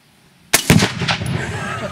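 A rifle shot sets off a Tannerite exploding target: after near silence, a sharp crack is followed almost at once by a heavy, close boom that rumbles and echoes away over the next second.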